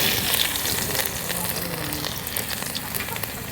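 Two bay leaves, five-spice seeds and chopped garlic sizzle in hot oil in a pan, a steady loud crackling fry with light stirring throughout.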